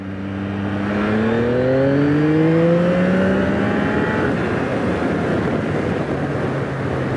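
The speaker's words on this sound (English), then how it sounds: "Coming up to the national now, so we'll test her out for acceleration. Second gear." A 2024 Yamaha MT-09 motorcycle pulling hard in second gear, engine note climbing steadily in pitch as it accelerates, loud and close under heavy wind rush.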